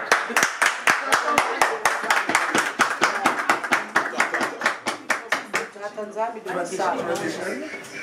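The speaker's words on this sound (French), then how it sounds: "Applaudissez s'il vous plaît." An audience at a Congolese award event gives a steady run of sharp, rhythmic hand claps that builds briefly and then fades as a voice starts talking over the end.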